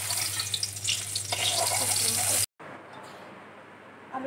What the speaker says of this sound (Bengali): এখন বেগুন ভাজা বসাচ্ছি